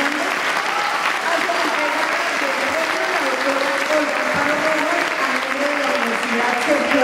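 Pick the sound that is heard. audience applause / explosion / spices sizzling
audience applause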